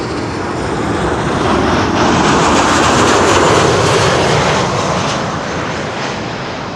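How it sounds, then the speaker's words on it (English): A KLM Boeing 737-800 arriving from Paris lands on runway 06 at Amsterdam Schiphol, its jet engines a loud, close, steady roar that swells and slowly fades with broad rushing noise. "This is KLM flight 1402, arriving from Paris, Paris-Charles de Gaulle, 737-800."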